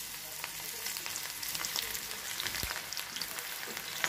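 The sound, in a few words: banana flower pakoda frying in hot oil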